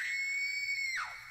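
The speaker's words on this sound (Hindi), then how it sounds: "लेकिन साथ में अनामिका की भयानक चीख भी सुनाई दी" A woman lets out a sudden terrified scream in a Hindi horror story, one piercing sustained shriek that holds steady, then breaks and slides downward before fading, loud and alone.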